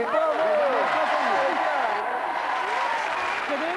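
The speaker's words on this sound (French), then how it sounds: "Et nous recevons immédiatement, avec sous vos applaudissements" Studio audience applause on a French TV show, a steady dense clapping wash throughout with a host's voice talking over it.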